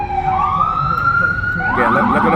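Ambulance siren passing on a city street, a loud rising and falling wail that holds steady and then sweeps through pitch changes as it goes by, over constant traffic rumble.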